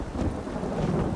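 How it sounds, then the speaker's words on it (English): A thunderstorm in the video game The Witcher 3 Wild Hunt sends a deep, continuous rumble of thunder over steady rain, loud and enveloping with no voices. "Storm, damn it."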